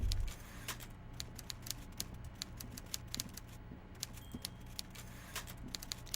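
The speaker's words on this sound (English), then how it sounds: "I hear clacking. He must be in there." Typewriter keys clack in a steady, uneven stream of sharp strikes inside an office in the Disco Elysium video game, moderately close, with no voices.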